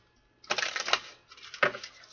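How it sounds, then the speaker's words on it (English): Two quick riffling bursts of cards being shuffled, close and crisp, with a short pause between them. "One more shuffle."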